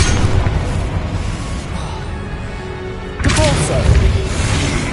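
A Confringo spell blast in the video game Hogwarts Legacy, a sudden loud explosive burst after a quieter stretch of rumbling game sound, with a spoken voice present over the action.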